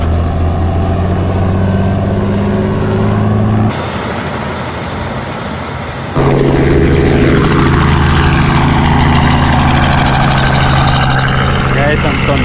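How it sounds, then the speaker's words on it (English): A tour helicopter comes in to land on a Grand Canyon and Sedona flight, its engine and rotor noise loud, close and continuous throughout, with people talking over it. "I'll grab those doors when the helicopter lands"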